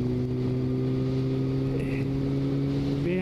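A sports motorcycle cruises along an open road with a steady, droning engine tone and wind rush, holding an even pace throughout.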